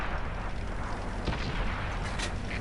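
A tank cannon firing in the World of Tanks video game, with a dense, loud rumbling battle bed and a couple of short, heavy blasts.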